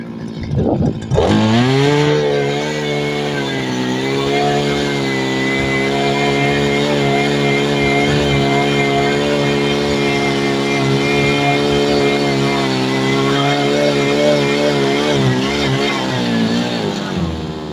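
A petrol brush cutter fitted with a cultivator attachment runs loud and close, a strained, high-pitched two-stroke drone that holds steady for the whole stretch.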